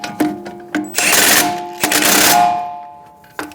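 An impact gun with a socket rattles in short bursts snugging down nuts on the front wheel hub of a 2007-2011 Toyota Camry, with loud close hammering and metallic ringing between bursts.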